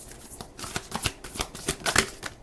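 Tarot cards being shuffled by hand, a quick run of crisp riffling snaps and flutters in close succession, loud and near with no talk.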